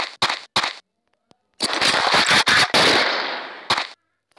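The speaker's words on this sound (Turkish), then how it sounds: "Şimdi bomba atalım." A bomb thrown in a zombie video game bursts into a long, loud explosion with crackling blasts, preceded by a few sharp short bangs and trailing off into a final pop.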